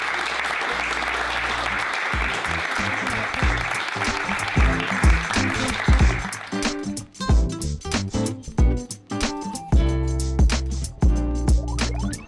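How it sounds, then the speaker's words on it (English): Audience clapping at a live talk session, a dense, loud wash of applause that thins after a few seconds into scattered, uneven claps and low thumps. "Massive round of applause for Joey."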